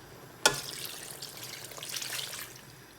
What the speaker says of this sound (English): So I'm adding 1 full glass of water.